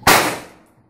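A vacuum cannon fires a ping pong ball with one loud, sharp bang that trails off in a short, fading rumble. No one speaks.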